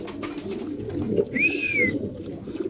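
Pigeons at a pigeon farm in Bangladesh coo softly amid a low murmur of birds, with one clearer call rising briefly over the steady background.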